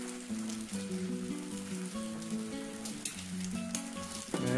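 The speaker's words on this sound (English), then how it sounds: "And we'll let those fry up." Hash browns seasoned with Old Bay fry in a pan, a soft, steady sizzle and crackle running throughout with a low hum beneath, quiet and uninterrupted.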